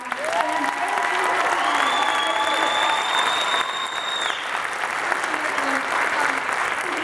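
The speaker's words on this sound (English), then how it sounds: "One more thunderous applause for this remarkable cast." Audience applauds cast bows at a Frozen Jr. youth stage show, a dense, steady clapping that fills the room throughout, with a few whoops and faint voices scattered over it.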